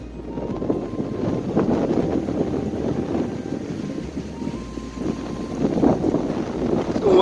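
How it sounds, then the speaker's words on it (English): Wind gusting across an open farm field buffets the microphone in a steady, rumbling roar that swells and eases throughout, with no voices. "Windy day today."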